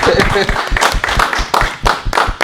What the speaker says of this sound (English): Can we clap it up for Tanika?